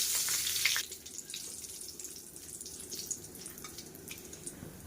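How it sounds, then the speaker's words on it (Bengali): Dried red chillies and nigella seeds hit hot oil in a pan after fish frying, giving a brief bright sizzle that settles into quiet, steady spitting and crackling, close and fairly soft, with no talking. "এবার এই তেলের মধ্যে শুকনো লঙ্কার কালো জিরে ফোড়ন দেব।"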